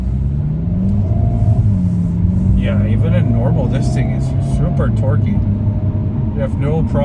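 A Hyundai Kona N accelerates through traffic, its engine rising and falling in pitch with a loud, close rumble while a person talks over it.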